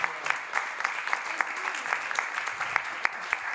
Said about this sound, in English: Again, an applause for Anja,